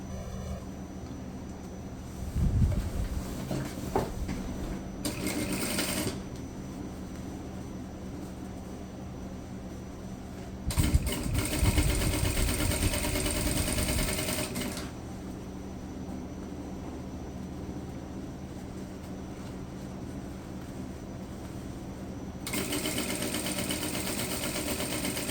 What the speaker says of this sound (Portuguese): E aqui a gente passa uma costurinha reta bem na beiradinha.